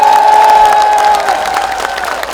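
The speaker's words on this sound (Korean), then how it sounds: "박수 부탁드립니다" Loud crowd applause and cheering at an outdoor campaign rally for candidate Lee Jae-myung at Geumneung Station in Paju, a sustained, close wash of clapping with a faint steady tone running under it.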